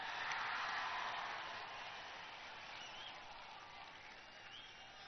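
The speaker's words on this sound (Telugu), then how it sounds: "మీరందరూ ఒకసారి జయరాం రమేష్ గారు చప్పట్లు కొట్టండి అందరూ" A crowd at a public meeting in Tirupati claps for Jairam Ramesh, a faint, distant wash of applause that holds steady and then eases slightly.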